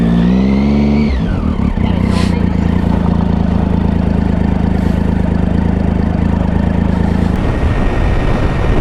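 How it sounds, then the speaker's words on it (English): Cars passing on a quiet rural road near Lake Corangamite, Victoria: a loud, close engine drone heard from a stopped motorcycle, with a falling pitch sweep as a vehicle goes by, then a steady rumble. "I'm just waiting for these two cars to go"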